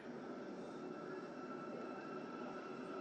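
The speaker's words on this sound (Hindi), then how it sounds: "ड्राइविंग हैंडल को तो मेट्रो आगे जा रही है," A metro train in a driving simulator rolls forward with a steady, continuous rumble and rail noise that holds evenly throughout, with no talking.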